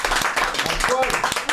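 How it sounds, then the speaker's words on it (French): A small studio audience on a French radio show claps for Alice, host of a mood-column segment, in a brief, scattered burst mixed with voices and a little cheering. "Et standing ovation."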